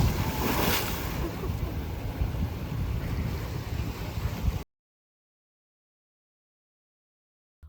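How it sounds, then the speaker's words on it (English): Loud, continuous crashing and splashing of surf at high tide close by on the Key West shore, Florida Keys, for several seconds, then sudden silence. "it is high tide. And it is a very splashing zone around here."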